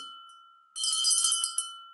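A single bell rings out loud and clear with a sustained, shimmering tone that decays slowly, heard alone with no voices.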